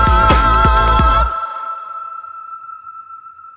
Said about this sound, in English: they let it echo